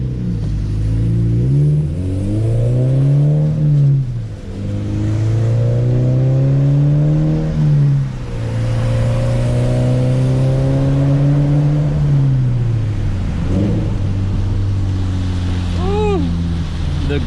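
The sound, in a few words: car engine revving before header install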